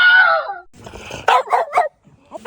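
Dogs bark, yip and whimper in short, close bursts on a farm outside the city, with a stretch of rustling and a pause between the barks and a brief voice in the mix.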